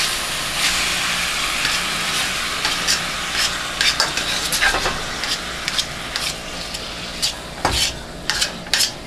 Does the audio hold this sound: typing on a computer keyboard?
no